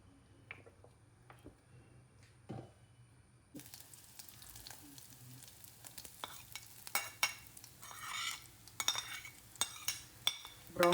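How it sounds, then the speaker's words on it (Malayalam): Grated coconut being fried in coconut oil in a pan, quiet at first, then a rising sizzle with scattered clinks and scrapes of a stirring spoon growing louder and denser toward the end. "നമുക്കിനി തേങ്ങ വറുത്തെടുക്കാം."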